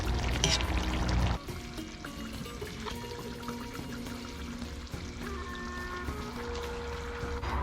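Herbal liquid is poured into a Thai hang lay pork curry, a steady close splash and trickle that starts louder and settles into a continuous gentle pour.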